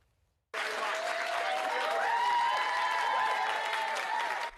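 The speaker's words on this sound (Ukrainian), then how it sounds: "Бориса Джонсона з Даунінг-стріт проводжають гучними оплесками і теплими посмішками" Staff on Downing Street give Boris Johnson a send-off with loud, sustained applause that starts abruptly after a short silence and holds steady, dense and close, with faint voices mixed in.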